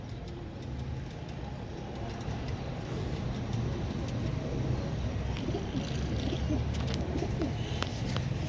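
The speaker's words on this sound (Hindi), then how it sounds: "कैसे लगे कबूतर आपको।" Champion pigeons, teddy pigeons kept by a hobbyist, coo amid a dense, steady wash of bird noise that continues without a break and grows slightly louder toward the end.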